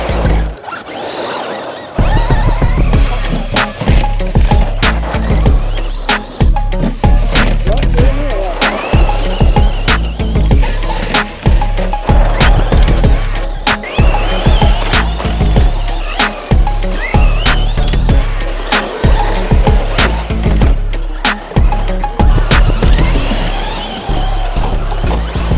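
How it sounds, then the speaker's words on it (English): A brushless Traxxas Slash 4x4 RC truck skids and races across a dirt track, its motor whining loudly and continuously with gritty scraping and clattering bumps, close to the listener. "getting the four-wheel drive skid coming across is about the most fun part of the track"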